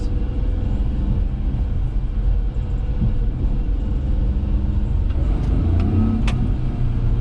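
Daihatsu Hijet kei truck with a 660cc engine crawling in second gear at low speed, a steady close engine rumble with slight revving throughout.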